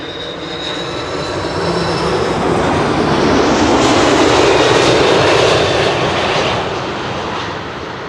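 A Delta Airlines jet landing, its thrust reversers applied: a broad, loud engine roar that swells in the middle and holds steady before easing slightly at the end, with no talk.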